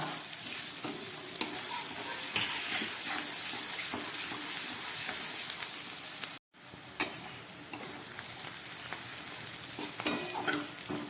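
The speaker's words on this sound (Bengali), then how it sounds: "ক্যাপসিকাম আর টমেটোটা খুব ভালো পেঁয়াজটা খুব ভালো করে আমি ভেজে নিচ্ছি" Steady, loud sizzling of onion and capsicum frying in a pan, with stirring scrapes throughout and a brief break partway.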